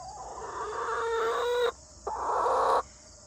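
Chickens cluck and trill close by in two drawn-out bursts separated by a short pause, over a faint steady hum.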